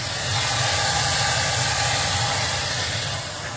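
A model steam locomotive boiler's blower hisses steadily at close range with a strong draft, a continuous airy rush over a low throbbing rumble, with steam pressure around 60 pounds.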